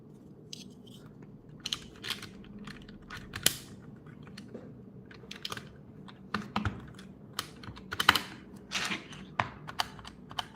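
Clicky keystrokes on a GMMK Compact barebone mechanical keyboard, a steady scatter of sharp close-up presses and taps over roughly ten seconds with no talking.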